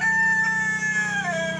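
Chickens crow and cluck in a homestead chicken run, a rooster's crow carrying over steady fowl clucking, loud and close throughout.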